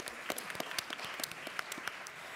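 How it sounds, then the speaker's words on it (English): Audience applause at a Radcliffe Institute panel on improving urban education: a steady wash of many hands clapping in a hall, with sharp individual claps standing out throughout, no talk over it. "I think that's worthy of an applause."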